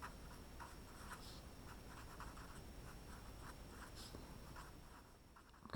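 Pen or pencil scratching steadily across a lesson page while working through a number-comparison problem, a soft continuous scribbling texture with brief strokes, close and faint, no talking.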